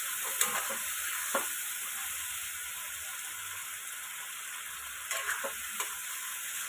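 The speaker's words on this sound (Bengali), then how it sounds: "বাটিটা ধুয়ে সামান্য জল দিয়ে দিলাম।" Chilli chicken sizzles steadily in a pan after a splash of water, a constant hiss with a few soft stirring clinks.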